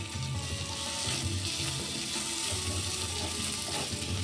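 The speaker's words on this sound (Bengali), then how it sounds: "এই পেঁয়াজ কুচনোটাও একটু ভেজে নেব।" Chopped onion and garlic sizzle steadily in a hot pan for a broccoli dish, a continuous close frying hiss with faint scraping and clinking from stirring, no voices over it.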